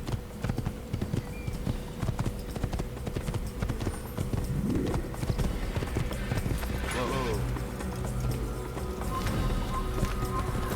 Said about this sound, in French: je vais remettre sur le cheval